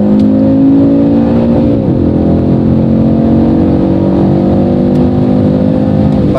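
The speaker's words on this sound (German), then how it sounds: "jetzt sind wir bei 6000 Umdrehungen und drehen aus" An Audi RS3 8Y's engine revs hard and loud in manual mode on the road, its tone climbing steadily, dipping briefly at a shift near two seconds, then pulling strongly toward 6000 rpm without interruption.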